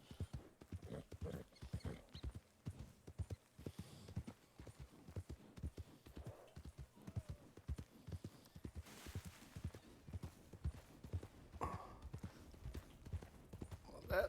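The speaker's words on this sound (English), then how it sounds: "It's just a glitched horse." A glitched horse in the Red Dead RP video game clip-clops along in a steady, quick rhythm of faint hoofbeats that runs throughout, with no voices over it.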